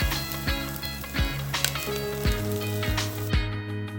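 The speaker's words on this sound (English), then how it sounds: "Place garlic into the pot. Cook 1 minute." Minced garlic sizzling in a pot, a bright steady crackle broken by several sharp clanks of a utensil against the pot, close and fairly loud, with no voices.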